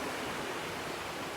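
Atlantic Ocean waves crash in a steady broadband wash of surf, loud and continuous, with no voices present.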